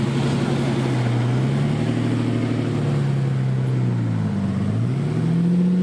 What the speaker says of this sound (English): Beautiful Diablo SV